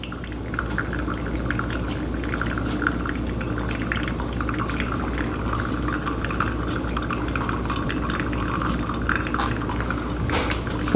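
Hot water poured over ground Colombian coffee in a Chemex brewer, a steady, continuous liquid trickle with a soft splashing hiss that holds at an even level throughout, with no voices.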